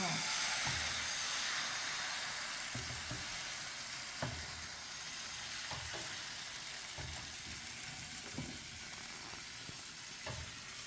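Banh xeo batter fries in a lightly oiled pan with a steady, broad sizzle and hiss, punctuated by soft scraping and clinking of a utensil against the pan.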